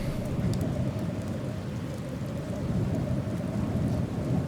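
Heavy rain pours steadily while low thunder rumbles continuously underneath, loud and enveloping with no voices.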